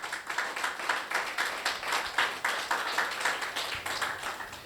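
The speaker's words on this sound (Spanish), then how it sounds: "Aplauso a Jesús, gloria a Dios." A church congregation claps in a steady, rhythmic beat during a worship service, each clap sharp and evenly spaced, with no talking over it.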